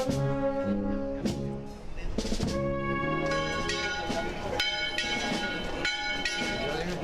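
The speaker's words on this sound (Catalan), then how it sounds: "També s'han sentit les campanes per tot el terme" Church bells peal across a village during the Montortal festival, several bells striking in overlapping, irregular rhythm with long ringing tails, loud and resonant against a faint hiss of background.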